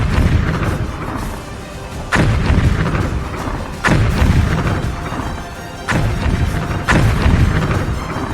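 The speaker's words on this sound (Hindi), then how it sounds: "बारूदी धमाकों का शोर पहले जैसा है" Heavy bomb blasts in wartime Lebanon boom out one after another, about four or five deep thuds spaced a second or two apart over a continuous loud rumble of battle noise.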